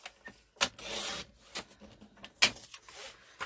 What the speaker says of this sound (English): So let me just trim this off here